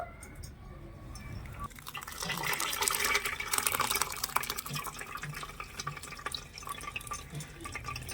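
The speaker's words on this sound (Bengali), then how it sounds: "এবারে এই ছাড়াটা আমি এখানে একটা পরিষ্কার সুতির কাপড়ের মধ্যে একটু ছেঁকে নেবো" Milk curd (chhana) is poured into a clean cotton cloth to strain, giving a sustained rush of watery liquid that swells after a quiet start and then keeps splashing and dripping.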